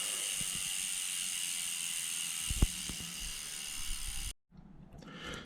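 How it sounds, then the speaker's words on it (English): Hope freehub on a 2025 Haibike Allmtn 6 e-bike ticking in a fast, steady ratchet buzz, quite faint and continuous, broken by a couple of knocks and a brief dropout near the end. "They sound pretty good as well, if you like the Hope sound."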